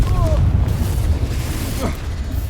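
A Confringo blasting spell bursts in the Hogwarts Legacy game as a deep, rumbling boom that fills the space and lingers, with game voices speaking over it.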